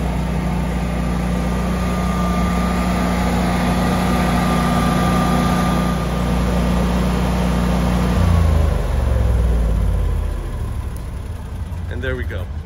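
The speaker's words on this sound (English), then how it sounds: "Generator is still running." A Generac standby generator runs steadily during a transfer switch test, its engine drone loud and close, then it winds down and falls quiet near the end.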